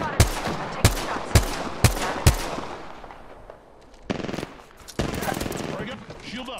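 Automatic gunfire in an Apex Legends battle: several sharp, loud bursts in a rapid irregular rhythm, then a short lull and more distant shots, with in-game chatter and effects underneath.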